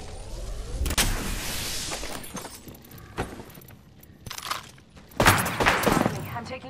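Gunfire in Apex Legends strikes the player in several sharp bursts, with cracking impacts and shield-break crashes spread across the stretch and a louder flurry near the end; a voice talks between the hits.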